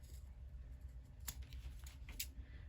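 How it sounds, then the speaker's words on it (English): Scissors snip the corners off a fabric seam allowance on a sewn bookmark, giving a few quiet, close, crisp cuts spaced apart in a hushed room. "we're just gonna snip the corners off"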